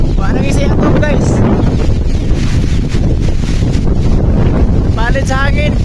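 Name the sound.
strong wind during typhoon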